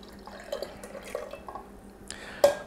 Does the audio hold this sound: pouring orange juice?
yes